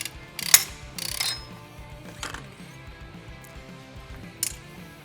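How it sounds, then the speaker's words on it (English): A spring compressor works on a Kawasaki Teryx H2 shock with close, crisp ratcheting clicks and metallic clinks, a few sharp bursts over steady mechanical ticking. "use our spring compressor here to de-spring the shock"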